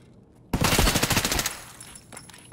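Rapid automatic gunfire in the video game Escape From Tarkov, a loud burst of roughly a dozen quick shots lasting about a second before trailing off into quieter echoes, with no voices over it.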